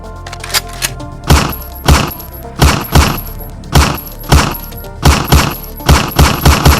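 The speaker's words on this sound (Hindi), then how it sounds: "उस पिकअप ट्रक में से गोली चलना शुरू हो जाती है।" Repeated sharp gunshots crack out from a pickup truck in an irregular burst, loud and close, each with a thudding low boom, one after another over several seconds.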